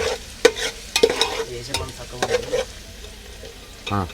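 Onions fry in a pan with a steady sizzle, punctuated by loud scraping and clanking strokes of a spoon stirring against the metal, close by and without talking.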